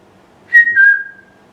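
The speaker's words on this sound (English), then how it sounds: "If I whistle, can you whistle back?" A single person whistles a short two-part tone, rising then gliding slightly lower and fading, clear and close in an otherwise quiet indoor space at an aviation museum.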